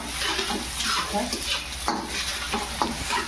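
Ginger-chilli paste fries and is stirred in a pan for a bread pakoda vegetable filling, giving a steady close sizzle broken by soft scraping strokes of the spoon.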